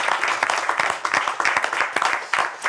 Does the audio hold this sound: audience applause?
yes